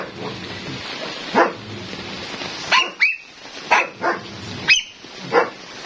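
A German Shepherd puppy gives about seven sharp, high barks and yips in an irregular sequence, close and loud over a steady background hiss.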